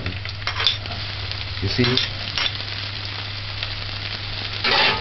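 Scallions sauté with a steady broadband sizzle in a hot pan, a continuous frying hiss with a few brief stirring clatters, the sizzle close and fairly loud throughout, with a couple of short spoken words near the start.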